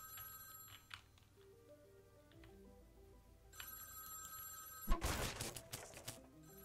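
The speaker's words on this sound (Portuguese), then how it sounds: "Por que, que tá tocando o telefone?" A video game telephone rings in short repeated electronic trills over quiet game music, followed by a sudden burst of loud crackling noise.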